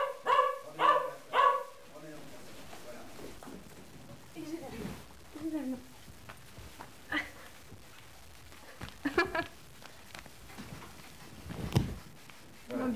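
A Yorkshire terrier gives a few sharp barks on command at the start of a film take, then people talk quietly, with occasional small noises and brief yips.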